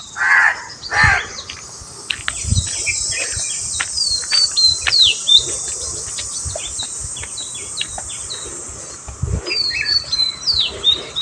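Crows cawing and smaller birds chirping outdoors in the morning, with repeated harsh caws and bright tweets over a steady hum of insects and crickets, no speech.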